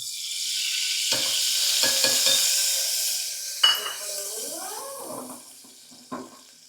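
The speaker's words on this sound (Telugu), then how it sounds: "కొంచెం నెయ్యి వేస్తున్నాను" Ghee sizzles steadily in a hot pan for tomato pulao, a loud hiss that fades after a few seconds, punctuated by spoon taps and scrapes, with a brief voice heard near the end.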